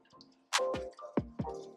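Cleaning liquid drips and splashes into an airbrush cup in a few quick, distinct plops, close and fairly quiet.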